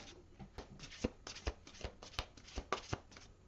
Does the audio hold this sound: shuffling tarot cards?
yes